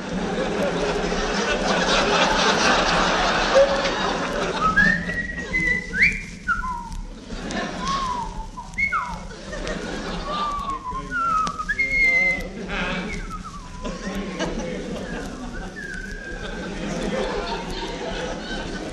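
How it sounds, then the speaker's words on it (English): A man whistles a meandering, melodic tune in a comedy radio broadcast before a live audience, with clear warbling notes over crowd murmur and scattered chuckles. "I will now whistle the soliloquy from Hamlet."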